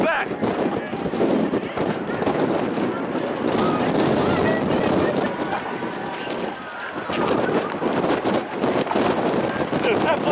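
Strong wind buffeting the microphone outdoors at a fire alarm evacuation, a constant loud rush over footsteps and a crowd while people talk.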